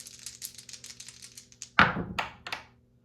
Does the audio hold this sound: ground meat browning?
no